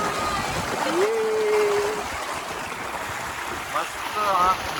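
River water flows and splashes steadily at a riverside in the countryside, a broad continuous wash close by, with a few faint chirping tones drifting over it.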